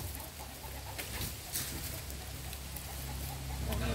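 Chickens clucking and squawking close by in a noisy outdoor yard, with steady low rumbling background throughout.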